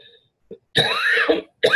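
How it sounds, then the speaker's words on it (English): A single throaty cough from someone with a cold, with a short throat-clearing rasp, close and loud, followed by a quick second burst. "I'm going to try to not let this cough and cold get in the middle of all this"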